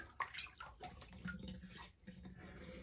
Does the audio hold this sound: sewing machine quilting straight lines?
no